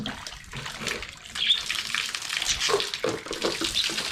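Tap water gushing and splashing into a container while a pet's drinking and bathing water is changed, a steady close pour with small bursts of splashing.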